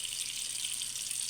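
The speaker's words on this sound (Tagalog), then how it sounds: "water." Water running from a tap, a steady soft splashing rush, quiet and brief, with no voices.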